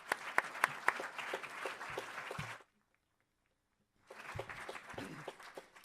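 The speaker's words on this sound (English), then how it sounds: "another round of applause for Mr. Mayor Marco Bárcena" A crowd gives the mayor a round of applause, loud and dense, then it stops for a moment of silence and starts again.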